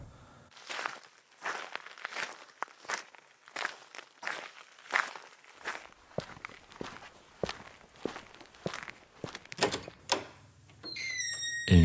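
Footsteps walk at a steady pace toward a large wooden door, the treads clear and rhythmic, ending in a brief ringing tone, with no voices.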